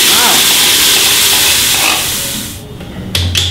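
Yogurt hits a hot frying pan with a loud, dense sizzle and steamy hiss. The hiss fades toward the end, then a couple of short clatters follow.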